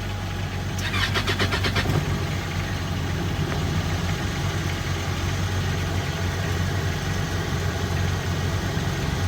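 A Yamaha 252 SE E Series boat's starboard engine cranks and catches, then settles into a steady low idle that continues to the end.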